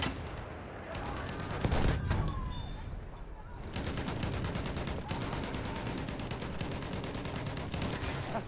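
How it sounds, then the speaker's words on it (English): Machine gun fire in the World War I shooter Battlefield 1 on the River Somme map: a loud wash of battle noise, then a long run of rapid, evenly spaced shots rattling on steadily. "There's a machine gun."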